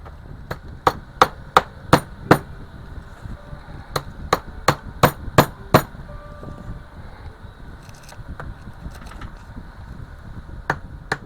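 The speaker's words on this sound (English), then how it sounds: "what I'm going to do now is we're going to drive in the little pieces" Small pieces are hammered into a wooden plank jig for a model ship, heard as sharp, close taps in quick clusters of several strikes with short pauses between groups.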